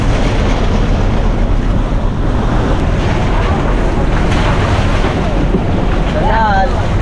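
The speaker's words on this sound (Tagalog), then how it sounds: "malakas ang alon" Strong sea waves and gusting wind buffet a fishing boat out on the water, a steady loud roar of surf and wind noise with faint voices beneath it.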